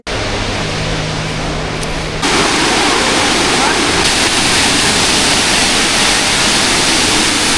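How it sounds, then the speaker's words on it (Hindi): A 30-foot waterfall in McLeodganj roars as a steady, dense wash of falling water that fills the scene, loud and close, with faint music fading out at the start before the roar grows fuller. "Look at this beautiful 30 feet waterfall."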